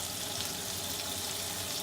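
Chicken sizzles and fries steadily in a hot pan, a continuous close crackling hiss with no breaks and no talking.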